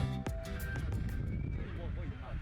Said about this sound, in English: The Jeju horses finally emerge.